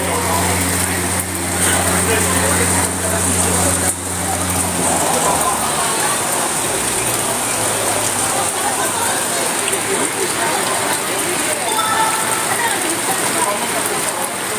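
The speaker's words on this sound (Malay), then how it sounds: "Kalau kita tengok hujan memang lebat" Heavy rain pours down in Cameron Highlands as a loud, continuous hiss that steadily fills the whole stretch without letup.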